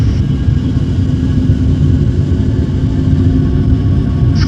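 Engines of an Antonov An-124 Ruslan heavy transport aircraft spooling up to takeoff power, a loud, dense, continuous rumbling roar heard steadily throughout with no talking.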